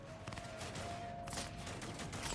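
Rapid gunfire in the video game Cyberpunk 2077, a dense, steady stream of shots with a constant tonal hum beneath, sustained at even loudness throughout.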